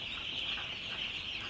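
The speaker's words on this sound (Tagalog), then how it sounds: "Yan ang mga sisiw namin kapatid oh." Chicks in a poultry farm house, a dense continuous chorus of high peeping from many birds at once, moderately faint and unbroken, no talking.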